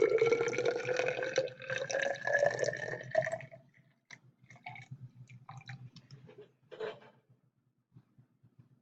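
Tap water streams into a graduated cylinder during a dilution activity: a steady pour whose pitch rises as it fills for about three seconds, followed by scattered soft drips and quiet handling clicks.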